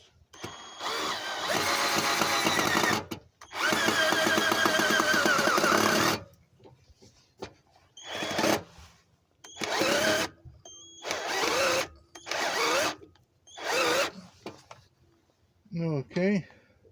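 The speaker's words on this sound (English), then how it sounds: "So we'll put these 2 screws in." A power drill drives screws into a wooden gate in several whirring bursts of varying length, two long runs then shorter ones, close and loud, with brief talk between them.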